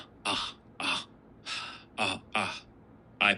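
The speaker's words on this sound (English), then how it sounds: "How long have you had that cough?" A man coughs and clears his throat in a dramatized reading of Poe's tale of the Amontillado, about six separate harsh hacking bursts spaced roughly half a second apart, close and clear against near silence.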